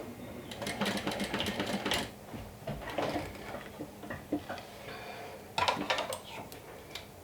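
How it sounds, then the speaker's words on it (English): A hand-cranked sewing machine slowly top stitches a bag strap for a double slider adjustable strap, giving close, steady runs of rapid mechanical ticking with brief pauses between bursts. "I guess going slow and hand cranking it pays off"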